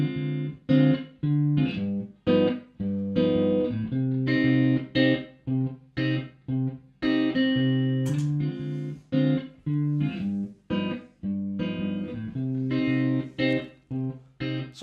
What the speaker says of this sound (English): demonstrate how the Super Locrian sounds over the top of that